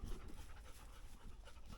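A dog pants rapidly and steadily up close in a quick rhythmic series of breaths, with no talking.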